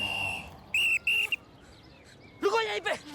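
A police whistle is blown in two sharp, loud, steady blasts followed by a brief chirp, then a voice shouts nearby.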